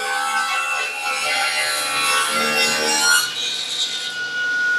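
An 8-inch table saw with a cast-iron top whines through wood with a harsh, rasping buzz that swells and eases over several seconds, close and loud with no voices.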